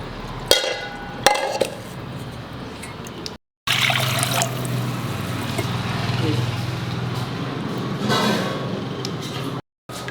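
Water pours and trickles into a container to soak ingredients for sannas, a steady liquid splashing lasting several seconds, with sharp knocks and handling clatter near the start and a short gap midway.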